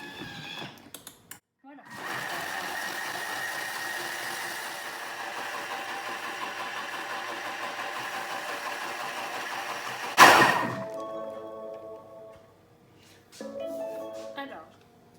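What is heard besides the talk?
Thermomix blending fruit juice at speed 10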